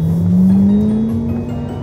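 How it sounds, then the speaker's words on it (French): A 700-horsepower sports car accelerates hard from inside the cabin, its loud engine drone rising steadily in pitch over about two seconds with no talk. "C'est le genre de voiture, on peut pas rouler doucement."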